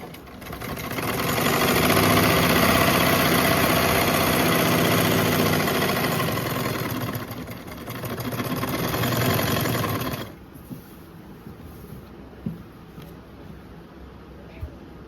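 Sewing machine stitching a trouser pocket, running loud and steady for about ten seconds with a brief slowdown near the middle, then stopping, leaving a quiet room with faint small handling sounds.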